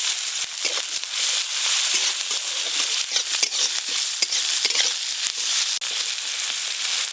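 Chopped onion, whole cumin seeds and dried red chillies crackle in hot oil as a tempering for egg curry, giving a loud, steady, close sizzle broken by sharp pops and stirring scrapes, with no voices.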